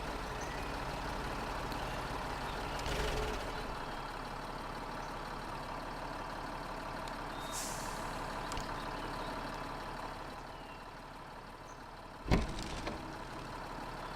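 A truck engine runs steadily in the MudRunner video game, a low continuous rumble with a brief sharp clank near the end and no talking.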